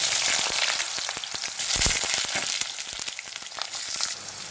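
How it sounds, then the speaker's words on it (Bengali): Potato pieces fry with turmeric and salt in a pan, a constant crackling sizzle broken by frequent clicks and scrapes of stirring, heard close up and without talking. "আলুগুলো আমি কিন্তু একটু লাল লাল করেই ভেজে নিলাম"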